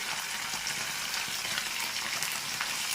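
Green chicken curry ingredients with curry leaves, mint and coriander fry in a pan, giving a steady, close, even sizzle and crackle with no talking.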